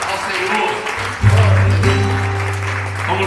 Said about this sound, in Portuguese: Dê uma salva de palmas a Ele, ao Senhor.